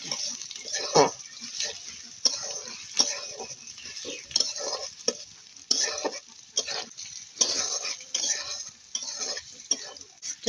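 Chopped onion stirred and fried in a pan for a village-style home dish, with repeated scraping and stirring strokes over a steady close sizzle, the spatula pushing the pieces around in uneven bursts.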